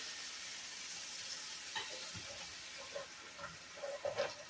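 Balsamic vinegar hits a hot pan with garlic, giving a faint, steady sizzle with soft bubbling and a few light stirring clicks toward the end.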